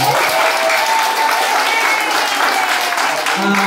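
An audience at a business presentation breaks into loud, sustained applause, dense and even from start to finish, with a voice briefly heard through it.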